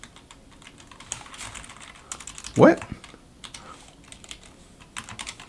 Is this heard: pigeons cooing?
no